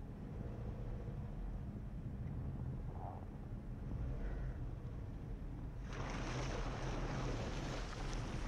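A Subaru car splashing through water on a broken, icy road, with a continuous low engine and road rumble that swells into a broad, loud wash of spray partway through.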